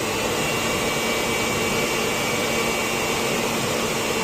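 A loud, steady air blower hisses and roars without pause while air is pushed into a Suzuki X4 engine part to check it for leaks.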